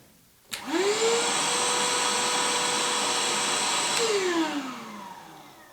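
An older Black & Decker 18-volt NiCad handheld vacuum whirs to life with a rising pitch, runs steadily for a few seconds, then winds down as the motor falls off.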